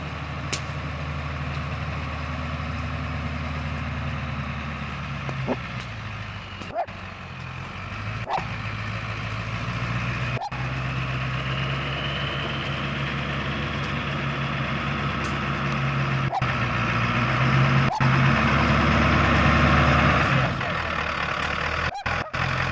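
A truck rolls in and idles at a campsite, its low engine rumble steady and close, with reversing beeps and a dog barking intermittently over the top, and the engine swelling louder near the end.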